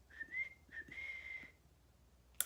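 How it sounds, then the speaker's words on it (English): A person whistling softly nearby: two short tones followed by one longer held note, with a light thump at the very end. "Can you whistle? Yes, I can."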